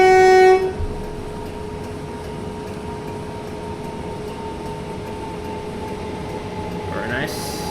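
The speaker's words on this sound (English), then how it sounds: "So Gatwick Express train arriving." A Gatwick Express train pulls in at a station in the Train Simulator 2018 game, a short horn blast at the start giving way to steady engine and rolling hum with a tonal whine, then brakes squealing rising near the end.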